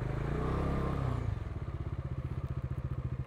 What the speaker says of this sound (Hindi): चलो इधर पार कर दो बाइक अपनी